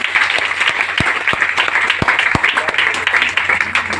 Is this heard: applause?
yes